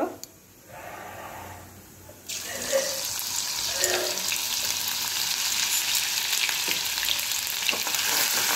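Ginger-garlic paste sizzles steadily in a hot pan for chole masala, a close, loud frying hiss that jumps up after a brief quieter start and holds with occasional stirring clicks.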